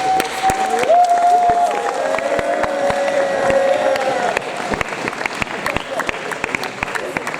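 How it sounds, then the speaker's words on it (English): An audience at an award ceremony claps for a youth football coach, sparse, scattered hand claps with cheering voices and chatter mixed in, moderately loud throughout. "I just want a round of applause for him."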